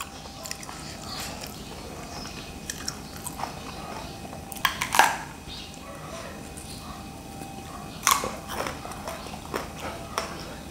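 Someone eats fresh vegetables, likely eggplant, with khanom jeen rice noodles, making two crisp, crunchy bites followed by soft chewing, close and fairly loud against a low background.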